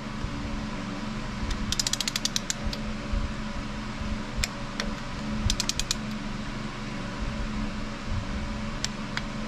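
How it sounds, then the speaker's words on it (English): A torque wrench ratcheting on the oil drain plug of a 2023 Subaru WRX, sharp clicking bursts in short clusters over a steady hum of background noise, with no speech. "grab that torque wrench of yours, put it on there, and you're going to go until it clicks."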